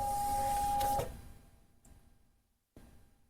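A Phomemo 4x6 desktop thermal shipping label printer runs a fast label print, giving a loud steady mechanical whir for about a second that drops off into quieter feed noises and a brief click near the end.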